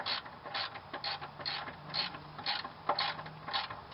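A ratchet wrench tightening a shock absorber nut on a Toyota, giving a steady run of quick, light clicks in an even rhythm, close and fairly quiet, with no talking.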